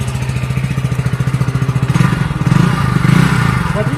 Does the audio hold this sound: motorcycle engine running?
yes